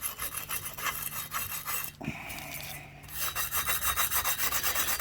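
Rhythmic scrubbing of grime from the gasket seating surface of a Honda CB750 K2 engine, a steady rasping rub with a short pause near the middle before the strokes resume, close and fairly loud.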